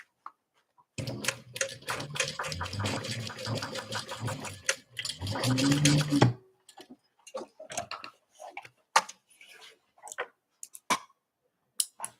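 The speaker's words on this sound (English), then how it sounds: "I'm going to sew just right over it" A sewing machine stitches over a fabric tote bag in a fast, steady rattle for about five seconds, then stops; scattered clicks and handling taps follow.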